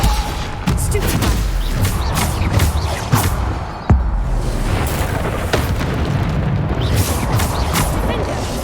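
Spell blasts and impacts crash repeatedly in Hogwarts Legacy combat: dense, loud booms and bursts with a sharp hit near the middle, over continuous game noise and shouted spell names.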